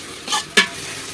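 Tomatoes stirred in a pot of hot oil for chicken biryani: two quick close scrapes of the spoon over a steady faint sizzle, the second sharper and louder.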